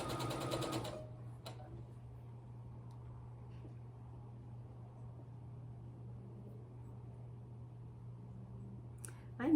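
Sewing machine stitching pieced quilt blocks, a low steady motor hum running close and even for several seconds after a short burst of louder sound at the start.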